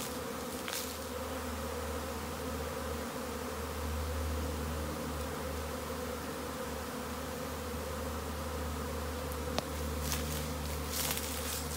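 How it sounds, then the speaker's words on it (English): A honey bee swarm moving into a swarm trap fills the air with a continuous low buzzing hum, steady and fairly close, with individual bees zipping past now and then. "today I have a swarm moving in"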